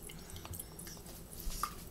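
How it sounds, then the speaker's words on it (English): Vinegar poured over an egg for a bouncy egg experiment gives a faint, close liquid trickle with a few soft drips, steady and quiet throughout, no voices. "Yeah, pour vinegar in."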